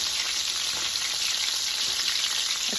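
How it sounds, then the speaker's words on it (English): Meatballs for gyro meatball flatbreads fry in a pan with a steady, dense sizzle that holds evenly throughout, close and constant with no voices. "The closer to the center they are, the better they fry."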